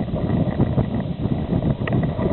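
Blizzard wind batters climbers at 7,500 meters on Everest, a loud, continuous low roar with gusty buffeting against the microphone and no break in the noise.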